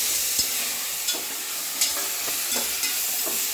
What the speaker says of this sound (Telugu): టమాటాలు, క్యారెట్, వెజిటేబుల్స్ అన్నీ వేసుకుని ఒకసారి ఫ్రై చేసుకోవాలి